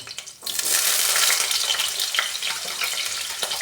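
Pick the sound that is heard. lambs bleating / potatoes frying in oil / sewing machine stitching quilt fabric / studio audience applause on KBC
potatoes frying in oil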